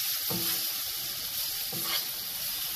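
Beef stew meat coated in spices and flour browning in a hot pan, a soft steady sizzle with two brief stirring scrapes, close and fairly quiet.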